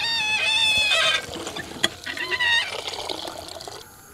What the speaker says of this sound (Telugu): అన్నం మునిగే వరకు మాత్రమే నీళ్లు పోసుకోవాలండి.